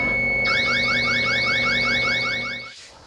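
A loud carbon monoxide gas detector alarm warbles in rapid repeating rising sweeps, continuous and close, then cuts off near the end.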